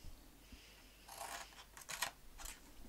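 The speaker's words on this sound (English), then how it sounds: "just hold it there and hand cut the box" Scissors snip by hand through a paper box, a few quiet, crisp cuts in short bursts with pauses between, close and alone.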